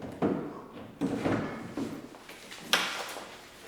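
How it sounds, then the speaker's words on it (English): Drawers of a travel-damaged toolbox are worked open and shut, four separate sliding clunks and thuds spaced about a second apart, close by and fairly quiet. "I've got some drawers that no longer close"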